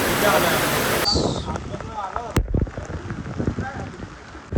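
Steady heavy rain hiss fills the opening second, then continues more softly beneath nearby voices talking and a couple of sharp knocks.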